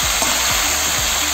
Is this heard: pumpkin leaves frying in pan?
yes